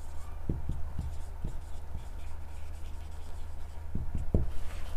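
A pen or marker scratches short strokes on a board, faint against a steady low hum, during a class 12 maths lesson on invertible functions.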